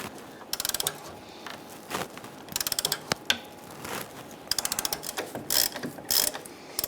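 Rapid ratchet clicking in several bursts, close by, as a wrench works a rusty sway bar link bolt loose on a 1997-2006 Jeep Wrangler, with short pauses between strokes and no talking.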